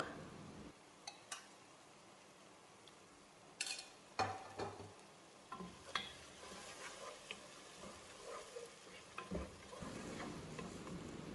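Curd stirred into chicken biryani masala in a pot, with soft intermittent scraping and clinks over a quiet, low sizzle and no talking.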